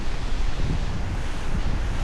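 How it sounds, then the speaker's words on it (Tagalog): Strong wind with no rain roars steadily against the microphone near a fruit-laden garden trellis, a dense rushing noise with low buffeting gusts and no voices. "Lakas ng hangin."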